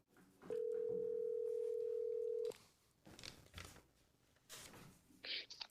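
Steady telephone dial tone from a phone held up to place a call, loud and unbroken for about two seconds, followed by quieter rustling and faint background talk.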